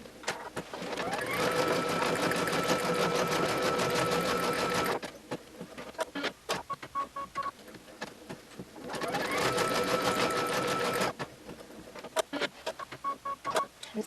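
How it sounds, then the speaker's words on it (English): An embroidery machine stitches out a patch with a fast, steady mechanical chatter in two long runs, separated by quieter stretches of intermittent clicking and stepping. "So I'll pop it back on the machine, and then the next thing you'll be seeing it stitch out before the fabric goes on."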